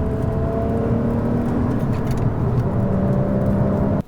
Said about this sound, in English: that was a smooth rev match